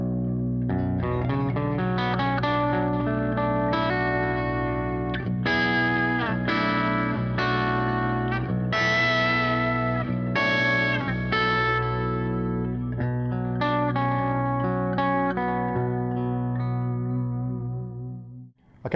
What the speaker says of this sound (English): in the bridge position, we have the bridge humbucker on its own.